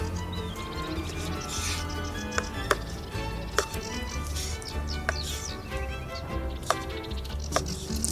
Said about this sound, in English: I'll just chop the dried fruits roughly